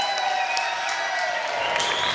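A crowd applauds for the head football coach, Mike Norvell, at a coaches show, a brief burst of steady clapping throughout.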